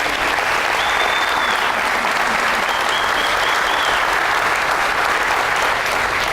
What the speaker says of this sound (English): Richard Soren and Bert Soren, just a round of applause for those guys.